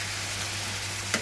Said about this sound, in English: So guys, stay tuned now as I start the frying process.